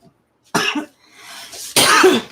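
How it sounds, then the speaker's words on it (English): A woman coughs in two short, loud bursts separated by a brief pause, close to the microphone and with no talk around them. "She's just coughing."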